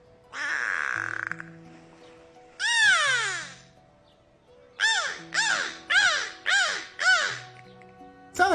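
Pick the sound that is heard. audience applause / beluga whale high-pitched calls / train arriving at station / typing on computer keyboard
beluga whale high-pitched calls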